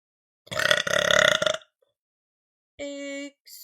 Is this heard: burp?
yes